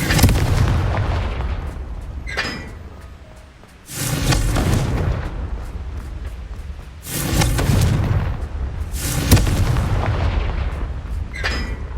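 Three heavy booming blasts from the Confringo fire spell in Hogwarts Legacy, each a loud explosive burst with a rumbling tail, spaced a few seconds apart with no talk.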